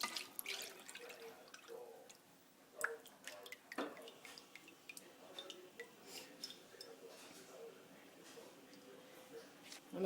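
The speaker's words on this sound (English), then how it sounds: "I'm going to pour it in this glass bowl." Melted butter trickles and drips softly into a glass bowl close by, with a few light clinks, quiet and unhurried.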